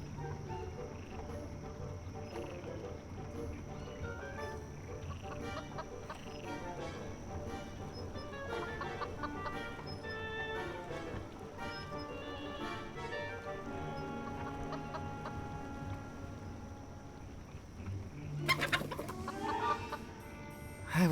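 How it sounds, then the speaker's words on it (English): A chicken clucks in a supernatural point-and-click game, soft repeated clucks over steady ambient game music, with a brief louder burst near the end. "Mere seconds later, it attracted the attention of the curious chicken."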